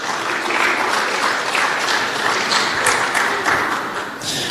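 Steady, loud applause from an audience at a tourism ministry session, continuous dense clapping with no breaks throughout.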